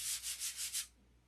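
Five quick back-and-forth sanding strokes over the open bays of a doped fabric-covered structure, a close, rhythmic rasp that stops abruptly, leaving quiet.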